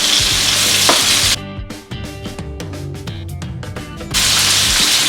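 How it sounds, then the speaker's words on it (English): Steak bites frying in a pan on medium-high heat, a dense sizzle that drops away while pieces are turned with quick clicks and taps, then roars back at full strength. "now I'm gonna start flipping the steak to the other side"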